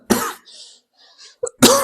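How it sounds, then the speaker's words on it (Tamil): Two sharp, loud coughs from a man, one at the start and one at the end, separated by a short quiet gap with a faint breath and throat noise in between. "அப்பப்போ இந்த மாதிரி இருமல் வந்துடுது"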